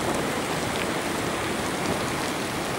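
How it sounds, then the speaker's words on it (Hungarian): Rain falls steadily on a hike in Norway, a dense even patter that holds at the same level throughout, close and moderately loud with no voices. "Továbbra is esik az eső."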